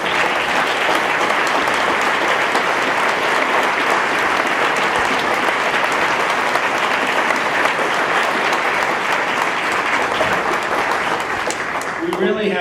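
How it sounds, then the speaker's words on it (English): A large outdoor crowd at a Memorial Day parade gives a sustained round of applause, steady and dense throughout, fading slightly near the end. "Please join me as well with a round of applause."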